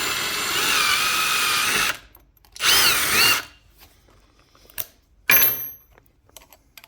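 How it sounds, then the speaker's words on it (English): A power drill pre-drills a small hole for a French cleat lock, with a close loud whir of about two seconds followed by a couple of shorter bursts and brief taps between pauses. "Just going to pre-drill that"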